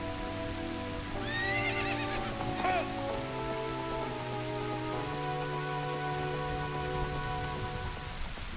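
A horse neighs once in a shrill whinny over steady rain in The Legend of Zelda: Ocarina of Time, while sustained musical tones hold underneath.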